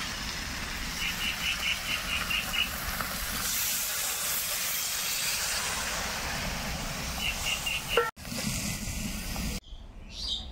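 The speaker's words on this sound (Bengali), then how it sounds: "এবার আমি জল দিয়ে দেব।" Water goes into a hot pan of chicken cooking with lotus stems, raising a loud, continuous broadband sizzle and hiss that breaks off abruptly near the end.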